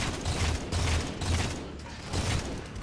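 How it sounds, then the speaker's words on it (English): Battle rifle firing in Halo 4, repeated short bursts of sharp gunfire in a quick rhythm, loud and close against a busy combat background. "I swear the battle rifle has 3-round burst in the campaign"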